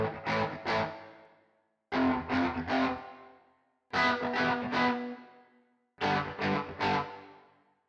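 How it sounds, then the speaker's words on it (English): Electric guitar phrases played through an amp in a very reverberant room, picked up by a microphone set well back from the amplifier; four repeated chord-and-note figures ring out with long, washy decay between them, no voices. "Here's an overly ambient guitar part, recorded in a very wet room with a mic at some distance from the amp."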